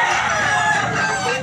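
Gamefowl roosters at a Cabyara farm crowing, one sustained crow-like call with a bright, strained tone, held steady close by with no talk over it.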